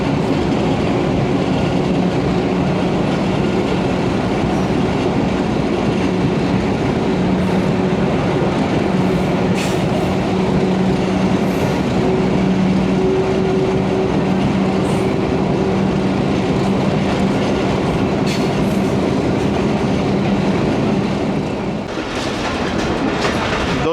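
Dera Ghazi Khan shuttle train coach rolling on a branch line in early morning, heard from inside as a loud steady rumble with rhythmic clickety-clack of wheels over rail joints and a brief squeal near the end.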